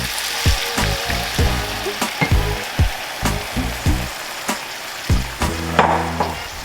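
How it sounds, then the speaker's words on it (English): A whisk works through gravy thinned with water in a hot pan, with quick rhythmic scraping strokes over a constant close sizzle and bubble. "I'm gonna give it a quick whisk."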